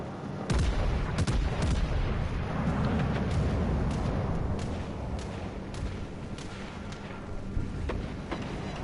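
French battleship main guns firing in World of Warships Legends: a heavy, sustained rumble of big-gun salvos with repeated sharp booms over a continuous roar, loud and close, with no talking.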